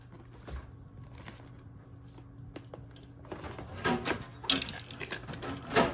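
The packaging of a ring light is torn open. After a quiet start, sharp crinkling and ripping bursts grow louder and more frequent, close by, with no one speaking.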